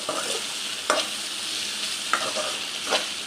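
Okra frying in a pan, with a loud, continuous sizzle and several brief scraping pulses as it is stirred, heard up close with no voices.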